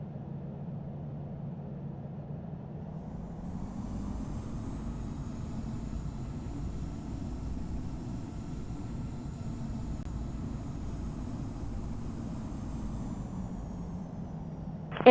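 A simulated airliner sits at London Heathrow during pushback in a flight simulator game, giving a steady, loud low engine rumble and whine that holds evenly throughout with no talk.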